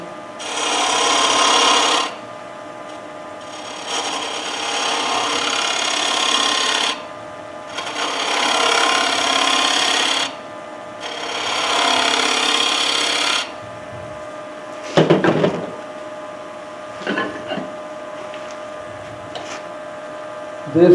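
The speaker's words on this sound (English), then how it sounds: "We'll just take a 1/2 inch bowl gouge on that." A half-inch bowl gouge cuts fresh-cut wood on a lathe at a woodturning demonstration, four sustained rasping passes of a few seconds each with short pauses between, followed by softer scattered scrapes and knocks.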